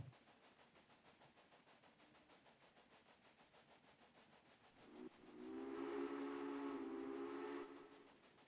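Steam-style train whistle in the Railway Empire video game, a loud sustained blast for about three seconds rising out of a quiet background of rolling train noise.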